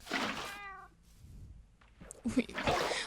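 A black and white cat in Minecraft gives one clear, close meow at the start, followed by quieter, scattered game sounds.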